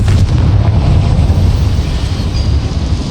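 A Confringo spell blasts inside a small mine in Hogwarts Legacy, a loud roaring explosion with heavy low rumble that fills the whole moment and tails off slowly, with no talking.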